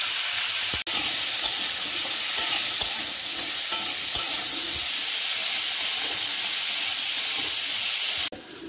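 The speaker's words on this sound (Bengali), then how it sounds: "কড়াই দিয়ে দেবো সর্ষের তেল, ভেজে নেব আলু, সিমটা ভেজে নেব" Flat beans and potatoes fry in mustard oil in a kadai, a loud continuous close sizzle with occasional stirring clinks and scrapes throughout.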